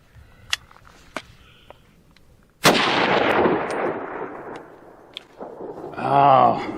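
A Ruger Mini-30 rifle being test fired after repair shows one sharp, loud shot with a long rolling outdoor echo, set among a few fainter clicks and knocks. A voice follows at the end.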